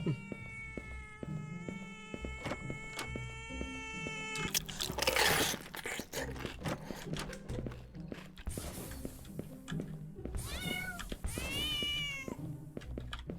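Hungry cat meowing in the cat-based horror game Howler: several drawn-out, rising and falling meows close by, separated by soft shuffling and footstep-like thumps, with a loud final wail near the end.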